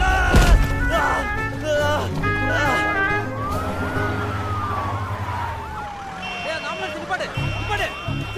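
An ambulance siren wails and sweeps up and down in pitch over busy street noise near metro construction, loud and close at first, then the tone glides lower as it passes, with voices around it.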